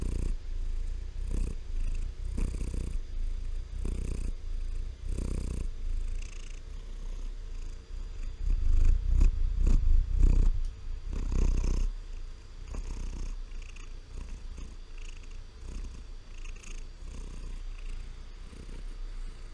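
A cat purring close into a microphone, a soft, continuous low rumbling purr with rhythmic breathing pulses that swell louder for a few seconds in the middle.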